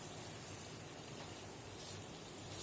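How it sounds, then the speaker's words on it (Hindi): Heavy rain falls outside a home kitchen during a chicken karahi cooking session, a dense, steady hiss that fills the whole span loudly and evenly with no voices. "बहुत बारिश हो रही है"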